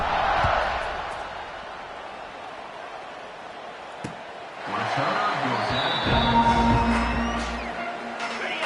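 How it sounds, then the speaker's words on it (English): A football stadium crowd buzzes after a score, a broad roaring murmur that swells at the start, eases off, then rises again with mixed cheering and noise. "this crowd is buzzing after that last score"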